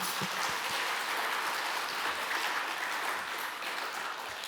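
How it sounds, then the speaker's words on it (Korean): A church audience claps together in a full, continuous burst of applause that holds steady and tapers slightly toward the end. "축복하시면서 박수 한번 부탁드리겠습니다."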